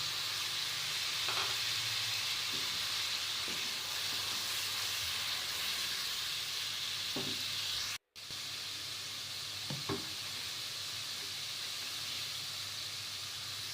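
Minced beef keema frying in a pan with chopped tomato and whole garam masala, a steady, dense sizzle throughout with a few soft stirring clicks and a brief cut in the middle.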